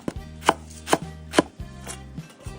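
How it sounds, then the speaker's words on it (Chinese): A knife chops chili peppers on a cutting board in crisp, evenly spaced strokes, about six sharp close thuds over a soft background hum, with no talking. "切几个辣椒"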